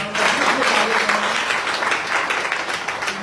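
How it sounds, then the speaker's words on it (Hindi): Audience applause at a network marketing business event, a dense, steady wash of many clapping hands filling the whole stretch at full strength without a pause. "Crown ambassador star mister Praveen Rai ji के लिए जबरदस्त तालियां।"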